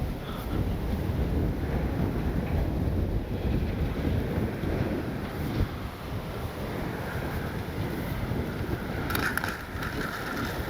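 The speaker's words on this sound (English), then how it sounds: "This is just too windy." Strong, steady wind roars and buffets the microphone at an RC airfield where an E-flite Piper Cherokee model plane is being flown, a continuous broadband rush with no voices.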